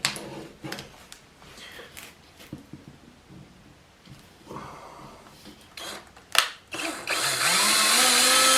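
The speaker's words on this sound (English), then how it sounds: "we're going to go ahead and drill these guys out" A power drill bores holes for the handle of a homemade pooper scooper in short start-stop bursts, with quiet handling noises between, ending in a longer steady whir.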